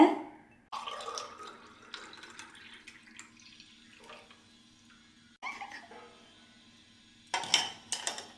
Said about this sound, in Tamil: ஸோ அந்த தேங்காய் தண்ணியை நம்ம வந்து ஃபில்ட்ரு பண்ணி நம்ம வந்து குட்டி பாப்பா ஹன்சிகா பாப்பாவுக்